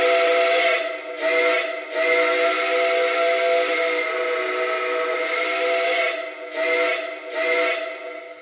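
Model steam locomotive whistle from a Lionel Legacy 1630 Frisco Decapod, a multi-tone steam whistle blown in short toots and one long sustained blast, loud and close with no other sounds.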